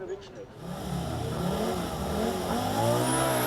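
A Group B rally car's engine revs hard and builds into a sustained, loud roar that stays steady to the end, with someone narrating over it.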